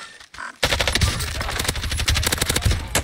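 Automatic gunfire in the Call of Duty video game, a brief quiet pause followed by a dense, loud, rapid burst of shots with scattered impacts layered over it, close and continuous.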